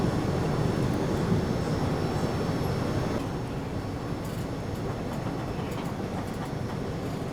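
The 16779 Rameswaram Express runs from Tirupati toward Pakala with a steady loud rumble of wheels and carriage noise from inside, easing slightly after a few seconds, with faint rhythmic clatter and no voices.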